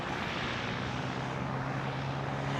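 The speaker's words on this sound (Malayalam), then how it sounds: "ഇത് പാരാ മോട്ടറിങ് എന്ന് ഇതിന് പറയുന്നത് കേട്ടോ" A paramotor flies over Varkala beach, its small propeller engine giving a steady, continuous buzzing drone that holds at an even level throughout, with no talk.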